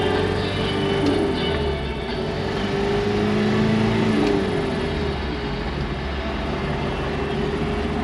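An older overland truck cruising down the road, a continuous loud low engine drone mixed with broad road and wind rumble, steady throughout with no talk.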